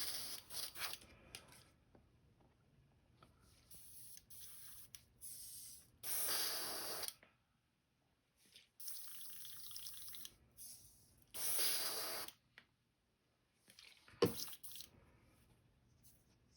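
An airbrush sprays 90% alcohol to clean itself out in several hissing bursts of one to two seconds each, separated by quiet gaps and small clicks, close and fairly soft, with no talking.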